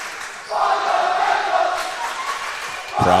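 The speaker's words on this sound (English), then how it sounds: "Crowd starting to get into it." A high school volleyball crowd swells into sustained cheering and shouting after a quiet start, loud and continuous, followed by a sharp burst of noise at the end.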